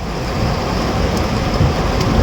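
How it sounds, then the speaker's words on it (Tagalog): Heavy rain pours in Ortigas, a dense, loud, continuous roar of falling water with no pauses and faint distant rumbles underneath. "Sobrang lakas ng ulan."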